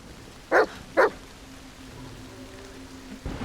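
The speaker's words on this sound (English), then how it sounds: "Oh, there's the dog." Dog barking in the horror video game The Medium: two short, sharp barks close together, followed by a low ambient hum in a quiet scene.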